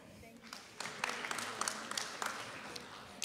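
Applause from an audience at a 2023 National Board Certified Teachers celebration ceremony: soft, scattered clapping that builds into a steady patter, fairly distant and modest in loudness.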